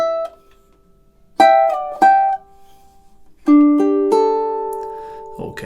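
Ukulele plays measures 29 and 30 of a song: sparse plucked notes and short chord strums with gaps between, then sustained ringing notes, close and clear with no talking.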